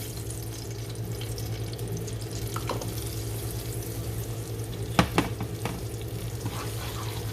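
Chili powder frying in hot olive oil in a pan, a steady soft sizzle running throughout, with a few brief clinks of a utensil stirring near the end.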